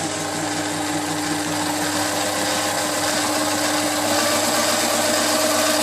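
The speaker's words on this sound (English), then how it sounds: "I'm going to switch the lathe on now and let's see how we get on." A mini lathe fitted with a quick-change tool post running steadily at about 450 RPM: a continuous close motor hum with a constant whine and faint mechanical rattle, unchanging throughout, no talking.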